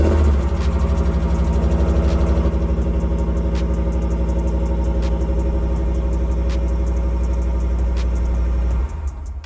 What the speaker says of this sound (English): I could use the remote start so you could just listen to the startup.